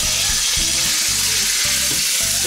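Meat sizzling in hot oil in a cast iron pot while cooking Lancashire hotpot, a loud, steady hiss and crackle with soft thumps of stirring throughout.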